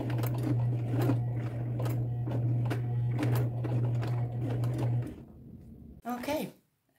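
A sewing machine runs a small straight stitch through denim with gold thread, a steady close whirring hum lasting about five seconds before stopping, followed by a brief rising whine and handling noise.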